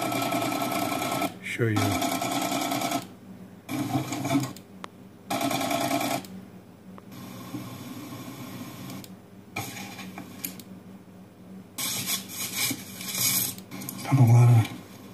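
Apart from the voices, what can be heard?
Brother embroidery machine stitching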